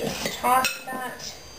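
Apples being tossed with cinnamon sugar in a bowl for a Bavarian apple torte give a few short clinks and scrapes of utensil against dish, close and moderately loud.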